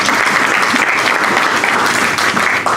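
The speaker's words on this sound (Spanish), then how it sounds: "Regálele un aplauso, Señor." Church congregation at a Spanish-language miracle service breaking into loud, steady applause, a close, continuous wash of clapping with no break, with little talk.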